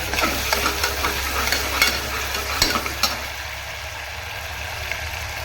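Curry leaves crackle and sizzle in hot oil in a pan, loud and close, with a few sharp spits and stirring scrapes before the frying settles to a softer hiss.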